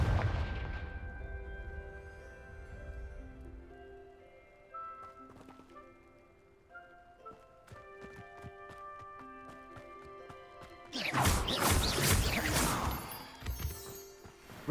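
Confringo fire spell blasts in a Harry Potter video game, heard as scattered sharp bursts over a layered musical score, building to a loud, dense blast of noise near the end with no talk.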